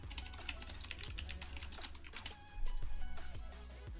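Rapid typing on a keyboard during a live gear-unboxing stream, with a dense, close clatter of keystrokes that builds a little louder toward the end, and no one speaking.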